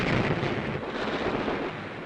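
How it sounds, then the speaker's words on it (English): Bombs exploding on Japanese ships during the 1943 US and Australian air raid in the Battle of the Bismarck Sea, heard as a sustained, loud roar of blasts with no voices. "Bombardiers blast everything afloat, making 80 direct hits on the 22 ships"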